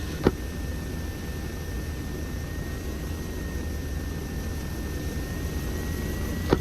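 Aircraft engines on the ground in the video game Arma 3: a broad steady engine roar with a faint high whine running through it and two brief sharp clicks near the start and end.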